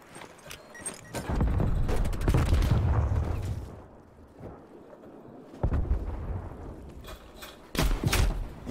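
Sniper rifle fire from the ZRG 20mm in Call of Duty: Cold War, heavy booming shots with long rumbling tails, several loud blasts spread across the stretch with quieter gaps between them.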